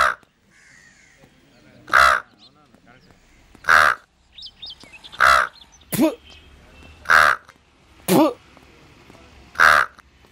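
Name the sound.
man imitating a crow's caw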